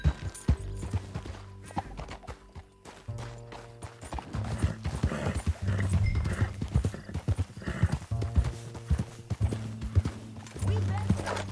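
Horse hooves clip-clop at a gallop in the Red Dead video game, steady rhythmic beats running through most of the stretch alongside occasional whinnies, with game voices and music layered over them.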